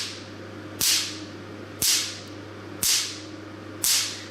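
Four crisp, loud snaps from a picosecond laser pulsing onto paper, evenly spaced about a second apart over a constant low machine hum, each a sharp crack with a brief fading tail.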